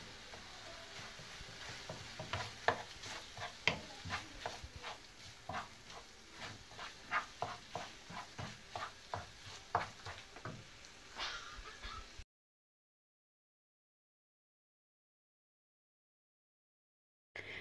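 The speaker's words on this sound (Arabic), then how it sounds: "دابا غادي ندير الكفته ونخليها تطيب" Minced-meat kofta sizzles and crackles in a pan while a utensil stirs and scrapes in irregular bursts, then the sound cuts to silence.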